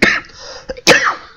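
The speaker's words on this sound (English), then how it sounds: "I'm still recovering from my cough, as you can probably tell." A person coughs twice in quick succession, close and fairly loud, with a short pause between the two bursts.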